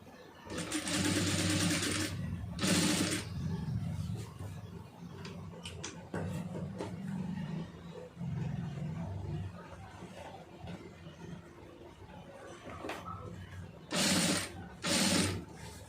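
A sewing machine stitches piping onto fabric in short, loud whirring bursts: two near the start and two near the end, with quieter handling and mechanical sounds in between.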